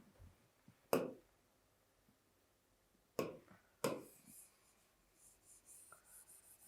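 Chalk or marker strikes and scratches on a board during a maths lecture on three-dimensional geometry: three sharp taps with short scraping strokes, fairly close, separated by quiet pauses, with faint rubbing afterward.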